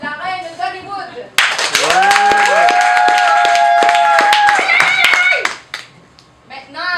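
An audience at an improv show applauds, with a burst of loud clapping and cheering that lasts a few seconds before fading, while an announcer's voice is heard before and after.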